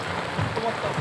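Heavy rain pours onto a flooded city street in Dhaka, a steady dense hiss of drops striking water, close and continuous for about a second.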